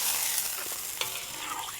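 Stirring in a pot over a gentle sizzle, with a few soft scrapes and clinks of the utensil against the pan.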